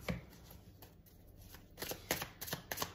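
Tarot cards being shuffled for a complete reading, with quick riffling bursts and soft slides up close, quiet and with no talking.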